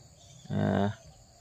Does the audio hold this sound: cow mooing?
yes